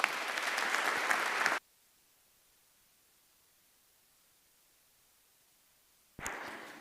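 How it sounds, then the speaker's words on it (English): Bursts of audience clapping after a lecture speaker is introduced at a war crimes justice talk, a loud wash of applause cut off after a second and a half, then silence before another burst begins. "Please give a warm applause to Dr."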